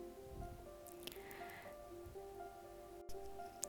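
Parippu vada lentil mix with chopped vegetables, green chilli and curry leaves is kneaded by hand, producing soft, close, quiet squishing and wet patting sounds in a few irregular squeezes.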